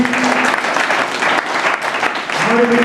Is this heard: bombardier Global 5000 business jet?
no